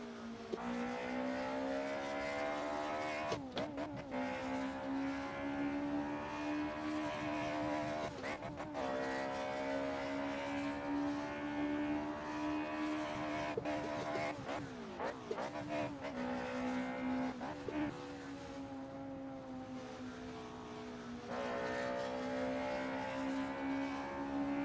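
Engine of a car driven in the racing game Assetto Corsa in traffic mode, a steady loud revving drone rising and falling with shifts, with brief bursts of tire noise; a voice talks over it at times.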